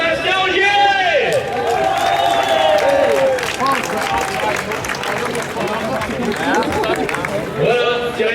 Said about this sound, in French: je vais vous demander d'applaudir très très fort Sébastien Ogier.